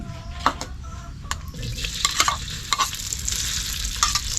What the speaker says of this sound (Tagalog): Prito natin siya.